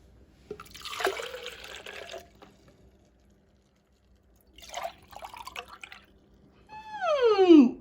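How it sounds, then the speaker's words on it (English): Water poured from one cup into another in short separate bursts, with quiet pauses between splashy trickles and a louder final pour. "Water pouring from one cup to another."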